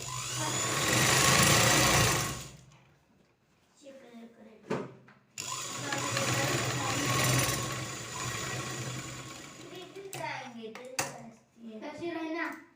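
A sewing machine stitches a blouse lining to its fabric in loud, steady mechanical runs that stop and restart, with handling sounds and a voice talking in the pauses between bursts.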